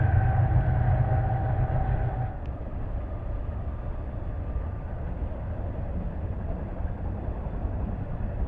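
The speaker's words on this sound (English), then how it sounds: "we got the back row seat of another westbound BNSF intermodal train flying across the bridge" A westbound BNSF intermodal freight train crosses a bridge on the Chillicothe subdivision, heard from behind as a steady, heavy rolling rumble. A brief tonal whine in the first seconds fades into continuous wheel noise.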